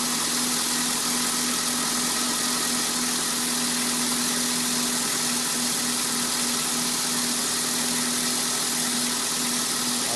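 A KN/KQ Ford Laser engine idling during a cooling system flush and service, a steady close mechanical hum with faint vibration and no change in pace throughout.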